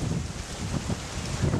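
A light breeze buffets the microphone outdoors at a botanical garden in Mauritius, giving uneven low rumbling gusts over a soft steady rush.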